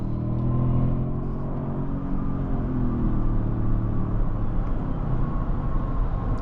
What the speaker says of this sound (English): with this vehicle having 583 pound-feet of torque, it makes sense as to why it picks itself up so quickly